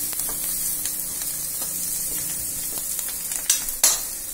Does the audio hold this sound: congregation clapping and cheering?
no